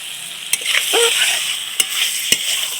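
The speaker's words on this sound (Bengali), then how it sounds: "এখন পটল আর আলু দিয়ে মশলাটা বেশ সুন্দর করে কষিয়ে নিয়েছি" Pointed gourd and potato sautéing with spices in a pan, a steady close sizzle and frying hiss with a few sharp utensil knocks against the pan, no voices.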